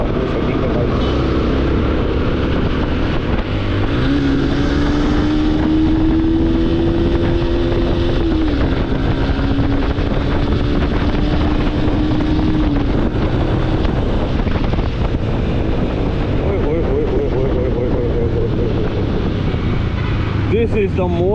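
Yamaha motorcycle engine revving hard at high RPM while riding on an open road, a loud sustained drone with rising pitch sweeps under heavy wind buffeting on the microphone.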